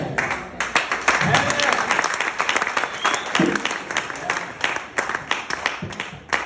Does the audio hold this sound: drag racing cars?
no